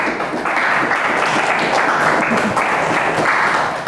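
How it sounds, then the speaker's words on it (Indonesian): A classroom applauding group 1: loud, dense clapping from many students that continues steadily throughout. "Jadi tadi kelompok 1 diberi tepuk tangan ya."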